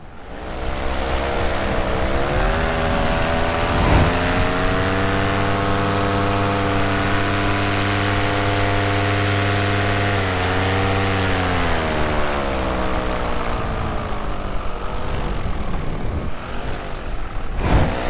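A paramotor powered by a Polini Thor 202 engine drones loudly and steadily in flight at mid-range throttle, its buzzing pitch dipping and rising slightly with the throttle over a constant roar of wind.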